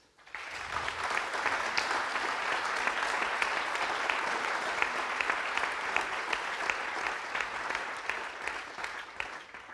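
Sustained, vigorous applause from a large conference audience following a speech, dense steady clapping from start to finish with no voices over it.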